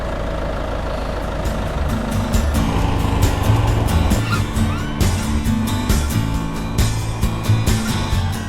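A motorbike engine rumbling steadily at close range while riding into a cave area in Mae La Noi, Mae Hong Son, northern Thailand, with a few sharp clicks and knocks over the continuous running.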